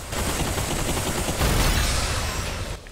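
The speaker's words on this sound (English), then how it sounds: "Get like a charge shot" A charged weapon shot in the Bulletstorm VR game on Quest 3, a loud dense roaring blast of rapid fire sustained for about three seconds before cutting off.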